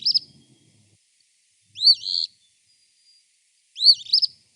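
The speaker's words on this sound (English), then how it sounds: "this is the eastern phoebe, and this is one of our flycatchers" Eastern phoebe, a flycatcher, calling three times: clear, high, two-part notes with brief pauses between them, close and distinct against near-silent surroundings.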